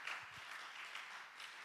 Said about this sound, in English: why don't you give these musicians and singers a hand clap?